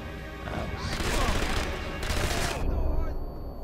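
Gunfire from the World War II shooter Sniper Elite V2, where bursts of rapid shots rattle in two loud clusters with some voice underneath.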